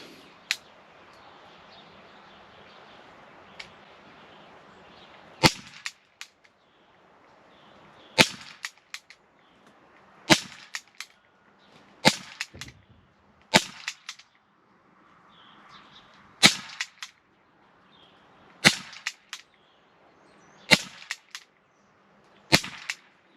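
Walther PPQ Umarex CO2 pellet pistol firing 0.50 g Crosman pellets: about a dozen sharp, loud cracks at irregular intervals, some in quick pairs, over a faint hiss of background.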